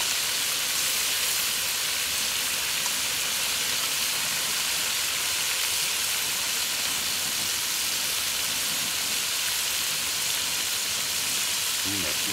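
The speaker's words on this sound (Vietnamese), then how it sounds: "Chiên dầu, chiên chảo dầu." Crab with ginger frying in a pan of hot oil gives a constant, dense sizzle and hiss throughout, loud and close, with no breaks.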